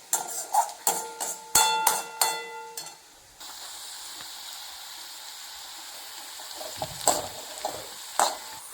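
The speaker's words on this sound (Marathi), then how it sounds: "हिरवी मिरची तळली की त्यात कांदा गोल्डन ब्राऊन होईपर्यंत तळायचा" After a few quick metallic clinks, onion and green chillies fry in a pan as a soft, steady sizzle, with occasional brief clatters of a utensil.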